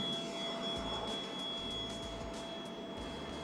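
Electric motor of an Avios Kobuz 2200mm EPO sports-scale aerobatic RC glider at full power during a climb, a steady high-pitched whine with a continuous airy drone, heard at a moderate distance.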